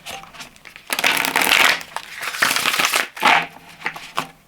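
A tarot deck is shuffled by hand in bursts of papery riffling and rustling, close and fairly loud, with short pauses between the shuffles.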